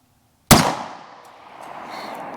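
A single sharp 9mm pistol shot from a Taurus GX4 firing Ammo Inc. standard black-box rounds at an outdoor range, loud and close, followed by a long fading echo and faint background noise.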